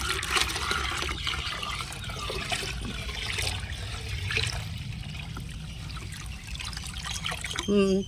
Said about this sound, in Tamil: இப்போ இதோட கூட இன்னும் தண்ணி சேர்த்துக்கிறோம்